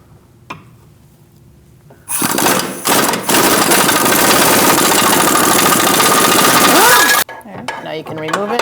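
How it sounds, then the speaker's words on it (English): A pneumatic air impact gun removes a sway bar link nut on a 2002-2006 Toyota Camry, hammering loudly and continuously for about five seconds after a short burst, then stopping, with metallic clinks near the start and end. "I'm using an extension and my air gun underneath"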